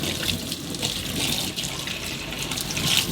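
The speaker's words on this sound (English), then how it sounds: "Make sure it's nicely rinsed off" A part from a Gtech or Bissell AirRam vacuum cleaner is rinsed under a running tap, with a steady, close splashing rush of water into a sink.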